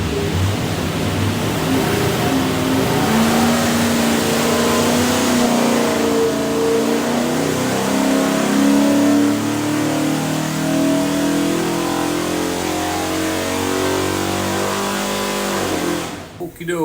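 A 347 stroker small-block V8 with a carburetor, in a Fox Body Mustang, roars on a chassis dyno under a long pull, its pitch climbing steadily under loud rushing noise before cutting off abruptly near the end.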